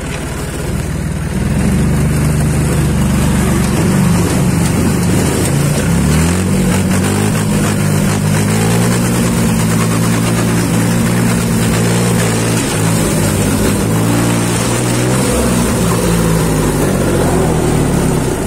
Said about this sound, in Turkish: Traktör.